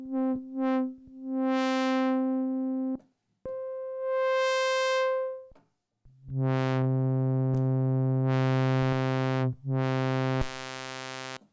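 A Roland SH-5 synthesizer with its band pass filter engaged plays sustained buzzy tones, several held notes changing pitch and brightness, with filter sweeps opening and closing, alone and fairly loud.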